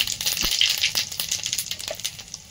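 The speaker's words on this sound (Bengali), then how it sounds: "গোটা জিরে, শুকনো লঙ্কাটা ভাজা হয়েছে।" Whole cumin seeds and dried red chillies fry in hot oil for a spiced ghugni, giving a dense, crackling sizzle with scattered pops and small clinks, steady and close throughout.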